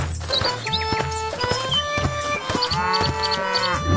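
Buffaloes lowing around a cattle shed, several deep drawn-out moos overlapping in a steady chorus, loud and close with some shuffling and farmyard noise between calls.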